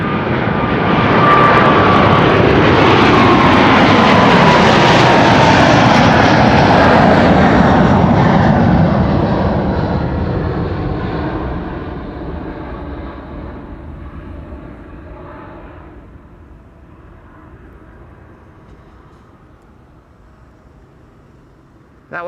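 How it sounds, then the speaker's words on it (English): A KLM Boeing 777-300 airliner departs Amsterdam Schiphol, its engines a loud, close roar that builds, holds, then slowly recedes and fades into the distance. "That was KLM flight 791 to Sao Paulo. 777-300."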